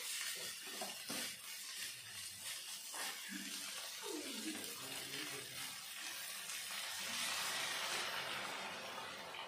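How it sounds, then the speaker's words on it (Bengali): Water is poured into a pan of cooked-down spice masala for a tilapia fish curry, giving a hissing, splashing sizzle followed by a steady bubbling stir, fairly faint and without speech. "এখন আমি দিয়ে দেবো পরিমাণ মতো জল।"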